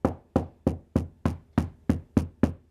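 A belt sander's dust canister tapped against a workbench, nine evenly spaced hollow knocks in quick succession, close and clear with nothing else heard.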